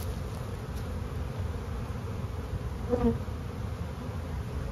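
Honey bees swarm around an open hive during a hive split on the day of a solar eclipse, making a steady, dense buzzing close by with a few louder passes as single bees fly near, and no talk.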